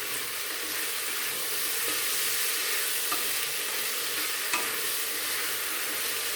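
Tomatoes and coarse salt frying in a pan while being stirred for a hyacinth bean sambar, a steady close sizzle with a few soft spoon scrapes and no talking.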